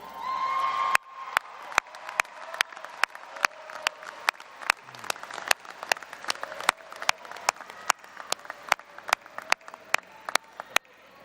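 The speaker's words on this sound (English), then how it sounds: "clap and cheer for them" A graduation audience at a 2023 commencement fills the space with sustained applause and crowd noise, cut through by sharp, evenly spaced loud claps or beats that repeat roughly twice a second.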